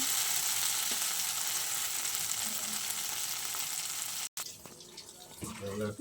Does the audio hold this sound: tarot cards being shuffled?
no